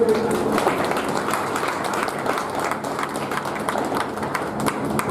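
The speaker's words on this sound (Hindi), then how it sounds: "एक बार जोरदार ताली बजाएं" Farmers at a Swaraj Tractors gathering in Bundi clap together, a dense, steady wash of applause with scattered sharp claps that carries through without a break.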